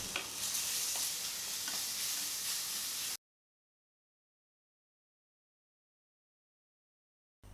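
Onion and ginger-garlic paste sauté in hot oil in a pan while a vegetarian tricolour pulao is cooked, giving a steady, close sizzle and hiss for about three seconds before falling silent.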